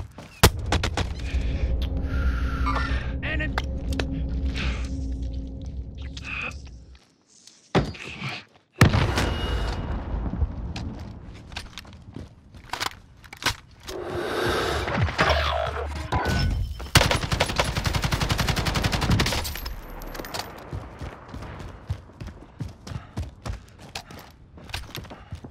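Gunfire in Call of Duty: Warzone crackles in bursts of rapid shots and heavier booms, with a brief silent gap partway through, then more dense firing and thuds, loud and close.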